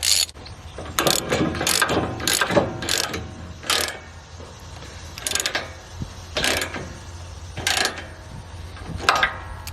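A ratchet wrench turning a 24mm socket on the nut and bolt of a JAPA 405 firewood processor, giving repeated close bursts of sharp ratcheting clicks in an uneven rhythm, with no talking.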